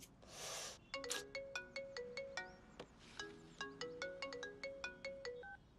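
A mobile phone rings for an incoming call, playing a bright repeating melodic ringtone of evenly spaced chiming notes after a short burst of noise at the start, clear and alone with no talking.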